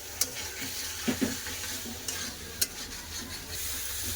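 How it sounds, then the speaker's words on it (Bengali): Fried potato and cauliflower stir-fried with spices and salt in a pan for fish curry, a continuous sizzle with repeated spatula scrapes and occasional clinks, close and steady with no voices. "এবার ভালো করে সব একসাথে মশলা সাথে কিছুক্ষণ কষে নেবো"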